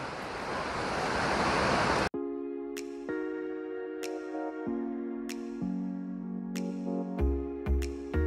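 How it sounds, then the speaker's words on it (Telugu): Flowing water at Yellowstone National Park rushes as a dense, loud roar for the first two seconds, then stops abruptly, and plucked music with regular struck notes follows. "వాటర్ సౌండ్ ఎంత ప్రశాంతంగా ఉందో."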